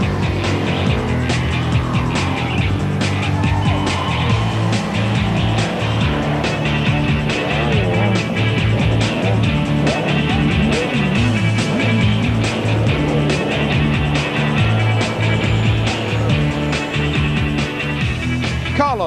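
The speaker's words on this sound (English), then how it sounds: "It was made even worse when the cars came rattling through." Dakar 2009 rally cars rattling and roaring through dusty desert terrain, loud continuous engine noise with rising and falling revs and rattling, one car after another, sustained throughout.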